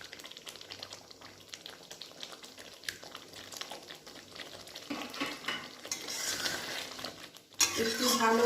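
Palak paneer with added water and fried paneer being stirred in a pan, soft scraping and bubbling sizzle that swells toward the end with a louder burst of frying, fairly close.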